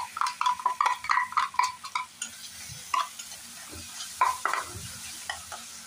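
Finely chopped tomato goes into frying masala and is stirred, giving a run of quick metallic spatula scrapes and taps against the pan over a low sizzle. The strokes are close and irregular, with no talking.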